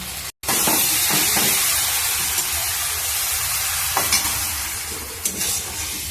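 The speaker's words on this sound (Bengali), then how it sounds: "সবজিগুলো একটু ভাজা ভাজা হয়ে গেছে" Vegetables frying in a pan after tomato, turmeric, chili powder and salt are added for a chili soya dish: a steady, loud sizzle with a brief break near the start and occasional stirring scrapes, no voices.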